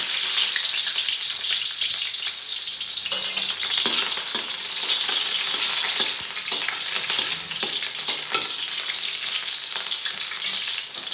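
Onion and garlic frying in heated cooking oil for chicken bulanglang, a loud, dense, unbroken sizzle close by with faint stirring scrapes scattered throughout and no voices.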